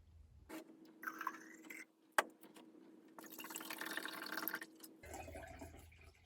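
Tap water pours in gurgling bursts into a pitcher, starting and stopping several times, close by, with a few clinks and splashes between pours.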